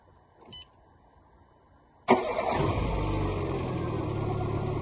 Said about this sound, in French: Donc je vais pouvoir faire démarrer la voiture.